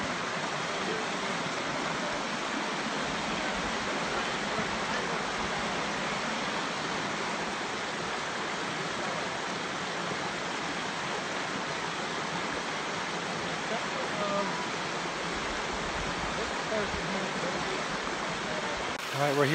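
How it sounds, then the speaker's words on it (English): Creek water flowing at the Patterson-Gimlin site on Bluff Creek, a steady broadband rush of running water that continues unchanged throughout, close and fairly loud. "right where the creek is here."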